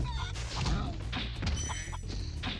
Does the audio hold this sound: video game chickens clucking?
yes